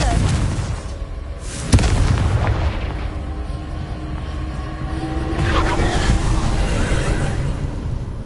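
A Confringo fire spell in the game Hogwarts Legacy goes off in a sudden booming blast, followed by a rumbling, crackling tail over a steady background wash.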